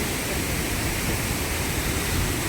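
Water rushing from Pambar dam at Uthangarai, a steady, dense broadband roar like a close waterfall that holds level throughout with no pauses and no voices.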